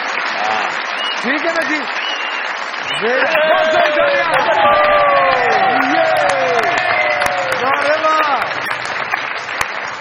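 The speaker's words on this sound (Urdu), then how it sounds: "بہت ساری تالیاں بجائیے میرے بھائی" A studio audience applauds during a Pakistani TV comedy show, a sustained wash of clapping with some cheering, while someone speaks over it.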